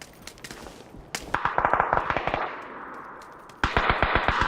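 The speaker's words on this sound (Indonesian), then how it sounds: "Aku tembak dari belakang ya." Rapid automatic gunfire in a video game, one short burst followed by a longer rhythmic string of loud shots, then another burst after a brief pause.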